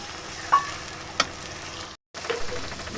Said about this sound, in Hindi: अब इसके अंदर डाल देते हैं टमाटर। टमाटर को हम इधर 2 मिनट के लिए पकाएंगे